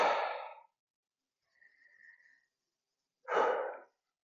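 Deep breaths taken by a person sitting upright during seated hip and knee arthritis exercises: two strong exhalations, close and clear, separated by a faint quiet inhale in near silence.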